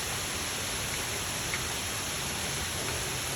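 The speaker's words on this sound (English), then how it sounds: "And it's raining pretty hard right now." Heavy rain from the remnants of Hurricane Helene falls steadily outside on a street. The downpour is a dense, even wash of noise that holds at the same level throughout, with no voices.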